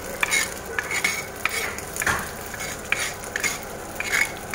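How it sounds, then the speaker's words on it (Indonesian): Fried rice being stirred and scraped in a wok, with repeated close metallic utensil strokes against the pan over a steady background sizzle of frying, no talking. "Udah aduk-aduk yang di wajan."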